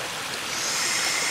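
Fresh water pouring out of a cut section of vine in the Australian bush, a steady close splashing trickle that holds constant for a moment.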